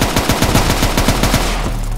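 Loud, close bursts of rapid automatic gunfire in a Roblox hood roleplay game, a quick string of sharp shots that stops abruptly near the end.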